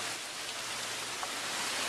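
Rain pours steadily outdoors, a constant broadband hiss of drops striking surfaces with a few faint individual splashes, fairly close and unbroken, with no voices over it.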